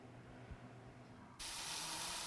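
Paint spraying for fantasy art bursts on suddenly partway through as a loud, steady hiss that holds to the end, after a quieter stretch of low background noise.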